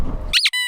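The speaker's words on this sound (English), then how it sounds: "he doesn't like that my door squeaks" A car door being moved lets out a brief, high, whining squeak that slides upward and then holds a thin tone for a moment, close and loud after a short stretch of rustling.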